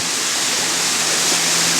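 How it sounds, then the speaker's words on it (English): A small stream pours into a forest creek on a hike near Sigriswil above an Alpine lake, a loud, steady, broadband rush of flowing water close by and without interruption. "Here a small stream adds its small bulk to this creek"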